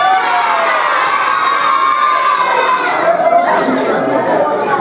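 A crowd of children screams and shouts together during a Shakespeare theatre workshop staging A Midsummer Night's Dream in Sarajevo, loud, close and sustained throughout with excited voices blending into one roar.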